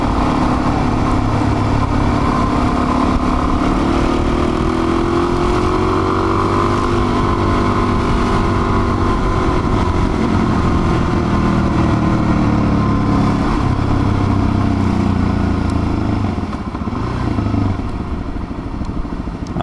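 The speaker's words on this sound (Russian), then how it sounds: "Машин дохренище просто." Dense Tokyo street traffic passes around a moving motorcycle on a winter ride toward Saitama, a steady loud engine drone with shifting tones from surrounding cars and bikes throughout.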